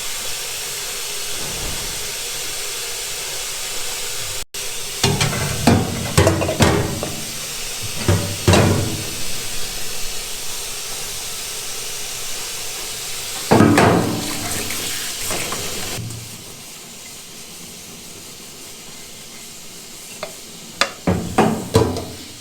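Hot water runs from a tap into a milk bucket being washed with foaming soap, splashing and sloshing with clanks of the metal pail, then quieting to a faint hiss with a few scattered knocks.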